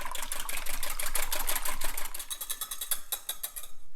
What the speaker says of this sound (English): whisk together your wet ingredients. Get the egg fully incorporated.